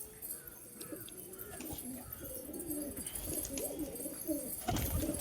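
Pet pigeons coo softly in a backyard loft on a windy, overcast day, their low rolling calls repeating at moderate distance over breezy background noise, with a brief louder rustle near the end.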